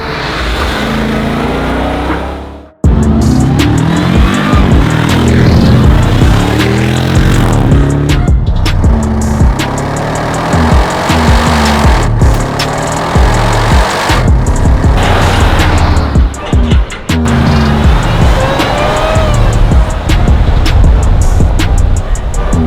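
Supercharged 2018 Jeep Grand Cherokee Trackhawk engine revving hard after a brief silence, loud and close, with repeated throttle blips and roaring surges that continue for about twenty seconds.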